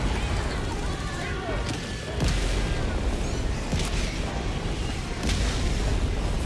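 Artillery explosions from a 380 barrage in the video game Helldivers 2, a steady dense rumble of booms with a few sharper blasts standing out, loud and continuous across the whole stretch.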